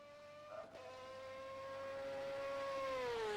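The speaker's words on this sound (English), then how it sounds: "You can hear that scream of the V8 at the higher revs" A V8 race car in the rFactor 2 driving simulator climbs to high revs, its engine note rising into a steady, sustained scream after a brief shift blip near the start.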